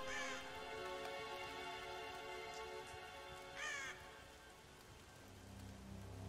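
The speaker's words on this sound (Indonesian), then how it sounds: "ada gagak" A crow caws twice in the Tomb Raider video game, the calls separated by a few seconds over continuous soft rain pattering on surfaces.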